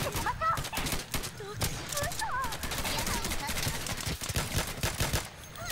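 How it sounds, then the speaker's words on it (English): Rapid gunfire from the video game Insurgency, dense overlapping shots and bursts from many directions, loud and continuous, with a person talking over it. "I'm taking shots from every single direction"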